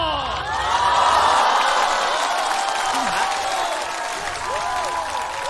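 A studio audience at a Chinese stand-up comedy competition cheers and applauds loudly, sustained whoops and clapping filling the room, swelling early and then holding steady to the end.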